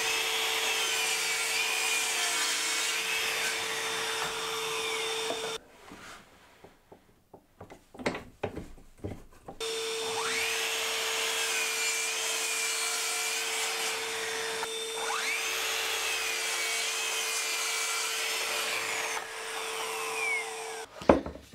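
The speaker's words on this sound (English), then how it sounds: "Now I want to cut a couple of bits at an angle to make the brackets for this." Plywood pieces being cut at an angle to make brackets for a clamp rack, with a loud, steady power saw whine in two long runs separated by a pause filled with knocks and handling sounds.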